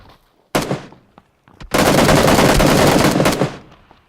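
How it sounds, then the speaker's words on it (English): Video game gunfire in PUBG: a short burst of rapid shots, a brief pause with a couple of faint pops, then a longer loud sustained volley of automatic fire that tails off. "I see him and just crouch fire him down"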